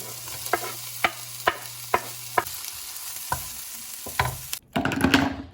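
Food fries in bacon grease with a soft, steady sizzle. Regular utensil taps land about every half second, and a louder burst of spattering frying closes it out.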